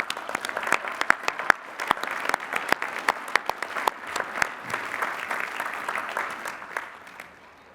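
Sustained audience applause at a university commencement ceremony honoring master's degree recipients, a dense wash of many clapping hands with a few louder close claps, fading slightly at the end.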